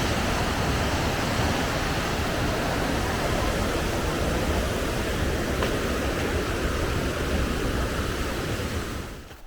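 Caged waterfalls near the old mining town of Sulitjelma, Norway, pour in a dense, unbroken roar that stays loud and even for the whole stretch, with no voices, before fading abruptly at the end.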